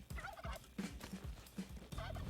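A turkey gobbling in Spelunky 2, several rapid bursts of warbling gobbles repeating close and loud, alone without talk.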